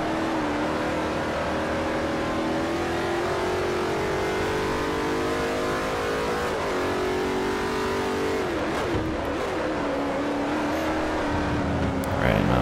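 A Koenigsegg engine races in Forza Motorsport 4, a loud sustained drone that rises steadily in pitch through the gears, with a brief dip and shift near the end and a voice talking over it.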